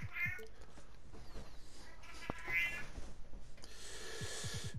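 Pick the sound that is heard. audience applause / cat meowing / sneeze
cat meowing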